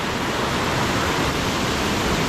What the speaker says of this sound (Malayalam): ആ മലമുകളിൽ നിന്നാണ് കേട്ടോ വെള്ളം ഒഴുകി വരുന്നത്